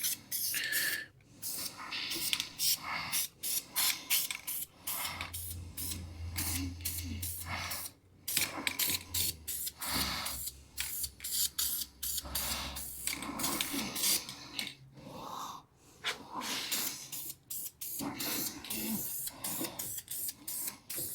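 Gloss paint is sprayed in coats over 3/16 plates boxing in the crossmember notch of a V10 Dakota, heard as many repeated short hissing spray bursts, some longer, in an irregular rhythm at close range.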